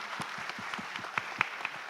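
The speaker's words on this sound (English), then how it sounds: "please give a round of applause to all the speakers today" A conference audience applauds, a short burst of soft, dense clapping with a few sharper individual claps standing out near the end.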